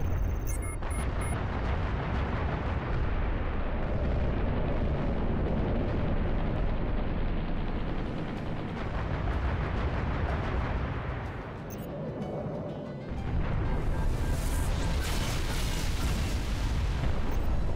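Archer missiles exploding during space combat in Halo Reach, a dense, continuous roar of blasts and rumbling detonations that fills the whole stretch, dipping briefly before a sharper, brighter burst near the end.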